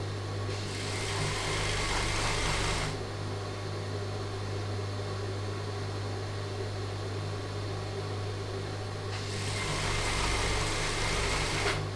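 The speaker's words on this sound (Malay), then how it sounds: "Kita jahit lagi sekali ya." A sewing machine runs in two long continuous bursts, one at the start and one near the end, stitching fabric for a child's pair of trousers, with a steady motor hum in between.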